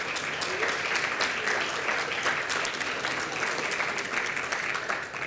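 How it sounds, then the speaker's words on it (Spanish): An audience at a Latin American forum welcomes a speaker with steady, sustained applause, a dense wash of clapping held at an even level before tapering slightly at the end. "Un aplauso."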